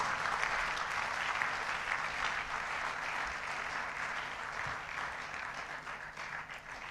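A crowd applauds steadily, a dense wash of clapping that holds throughout and tapers slightly toward the end.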